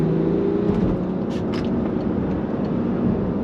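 A BMW X5 3.5d diesel SUV accelerating on the highway, a steady, loud interior drone of engine and road noise with a rising hum, no talk.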